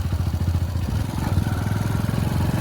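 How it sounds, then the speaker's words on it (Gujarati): A motorcycle engine idles with a fast, steady low putter of regular firing pulses, close and continuous, with a faint mechanical clatter on top. "બાઇક બંધ થઈ જાય"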